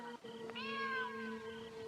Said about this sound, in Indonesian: seekor kucing hitam melompat dari dalam